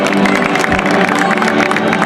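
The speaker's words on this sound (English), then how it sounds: "Round of applause for Carlo Ancelotti" A stadium crowd at the Barcelona versus Real Madrid cup final gives sustained, dense applause and cheering for Real Madrid manager Carlo Ancelotti, loud and continuous with no gaps.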